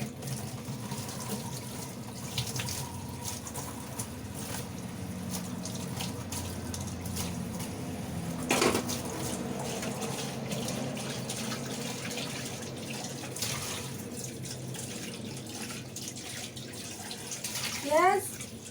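Fish rinse under a running tap, a steady close stream of water splashing with a sharper knock partway through and some faint background voices.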